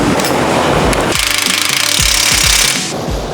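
A power tool fastens a new brake caliper on a Powerstroke truck: a loud, dense, rattling impact burst that holds for a couple of seconds and then tapers off, with no talk.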